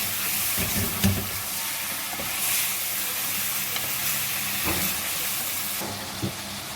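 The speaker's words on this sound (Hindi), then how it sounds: "इसको अच्छी तरह से 1-2 मिनट फ्राई कर लेते हैं।" Steady sizzling of chicken frying in a pan for chicken karahi, with occasional soft scrapes and clinks of stirring, close and continuous with no talking.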